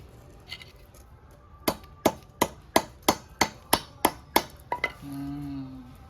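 About ten sharp, evenly spaced chopping blows as a 2 kg snakehead fish is cut into pieces with a blade on a hard surface. The knocks are loud and close, followed by a short low hum.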